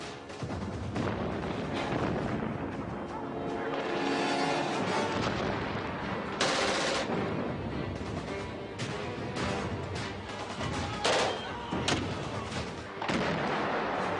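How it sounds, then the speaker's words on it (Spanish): Stun grenades and explosive charges going off during an embassy assault, a dense, loud barrage of booming blasts and crackling bangs with little pause between them. "Lanzaron granadas de aturdimiento en las habitaciones"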